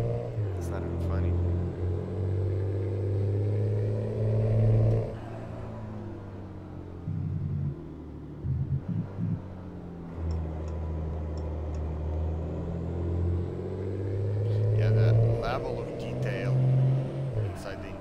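A RAM 3500 pickup truck in American Truck Simulator drives a winding road, its engine a steady low rumble that rises and falls with throttle, with a brief dip and choppy bursts midway as speech runs over it.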